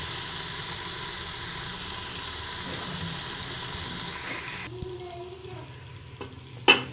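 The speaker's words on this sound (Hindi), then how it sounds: "तो जनाब अब इसमें मैं डालने लगी हूँ दाल" Washed moong dal tipped into a pan of sizzling masala and stirred, a steady broad frying hiss that drops away partway through, leaving quieter scraping and a sharp clatter near the end.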